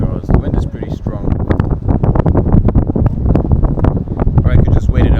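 Strong wind gusts buffet the microphone out on a river during a stand-up paddleboard outing, a loud, close, continuous rumbling roar that overwhelms everything else.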